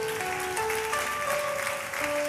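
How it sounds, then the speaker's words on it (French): A church congregation applauds and cheers during a worship service, a continuous wash of clapping and voices layered over sustained keyboard notes that shift pitch underneath. "Et tu peux acclamer Jésus"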